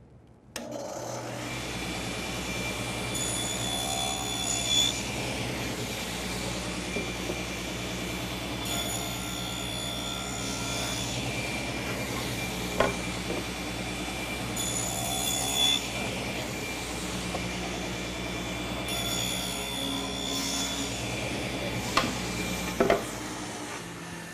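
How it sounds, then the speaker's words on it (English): A table saw runs continuously, cutting grooves around the face of a wooden raised panel with a loud, steady whining drone and brief flares of cutting noise, with no talk. "Now I've set the saw up to cut a 2-inch groove all the way around the face part of this panel."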